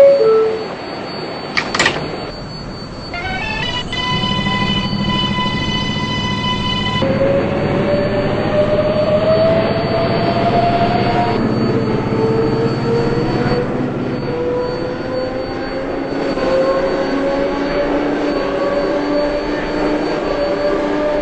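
An R188 7 local subway train pulls out of Times Square–42nd St bound for Queensboro Plaza, with door chimes, a rising electric motor whine and steady rumbling wheels building as it accelerates, close and loud throughout.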